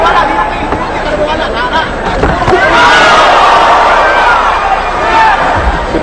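Boxing crowd at a Manny Pacquiao versus Chris Algeri fight roars in a dense, sustained swell that builds after a few seconds, a broad wall of cheering and chatter filling the arena with no single voice standing out.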